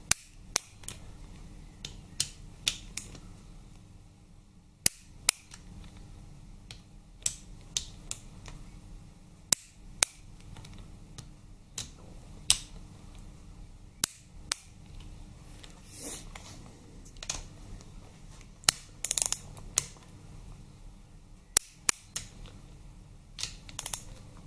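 A torque wrench tightening bolts on a Harley-Davidson Twin Cam 88ci engine during a strip-down and rebuild gives sharp, close metallic clicks and ratchet ticks at irregular intervals over a steady low workshop hum, with no talking.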